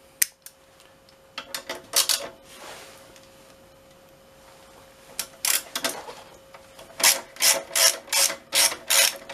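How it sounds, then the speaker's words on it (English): A hand ratchet loosens the brake caliper bolts on a Lexmoto XTRS motorcycle: scattered close clicks at first, then a steady run of rhythmic, rasping ratchet bursts. "once they're out of the way, we can come in with a ratchet"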